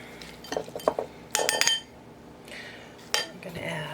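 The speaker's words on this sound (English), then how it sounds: "stir it again" A spoon stirring oats in an Instant Pot, bursts of metallic scraping and clinking against the inner pot, close and fairly quiet, separated by short pauses.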